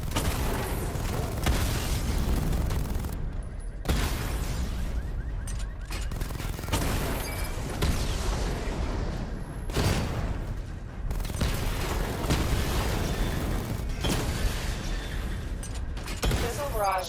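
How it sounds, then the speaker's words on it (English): The Batmobile in Batman Arkham Knight fires a missile barrage during combat: repeated bursts of rapid launches and booming impacts in rolling waves, loud and close, with brief lulls between volleys. "Charge the missile barrage to level 2 to destroy up to 4 targets at once."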